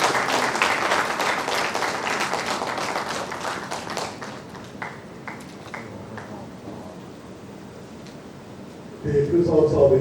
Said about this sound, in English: let's keep clapping until the man goes to conclude